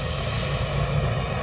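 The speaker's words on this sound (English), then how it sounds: "With the choppers running low on fuel, I'm gonna land over here by our truck." Firefighting helicopter flying near a wildfire on Maui, a steady, loud, broadband rotor and engine drone with no break and no voices over it.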